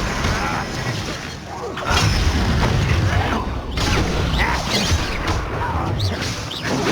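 Explosive Confringo spell blasts in Hogwarts Legacy combat, heavy rumbling booms and crashes that run continuously at high level, mixed with game voices.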